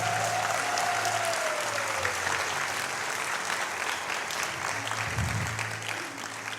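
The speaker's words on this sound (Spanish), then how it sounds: "Usted puede darle un mejor aplauso al Señor." Church congregation applauding for the Lord during a Spanish-language sermon, a dense steady clapping wash filling the room for several seconds, with a faint tonal sound fading early on.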